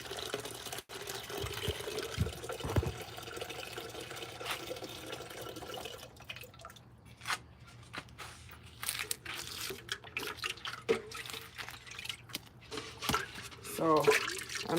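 Rainwater is poured and trickled into a soil mix to dampen it, with soft splashing, dripping and small wet mixing noises close by over a low background hum, and a quiet voice is heard at times.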